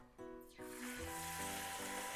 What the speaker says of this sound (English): Let's fry the okra.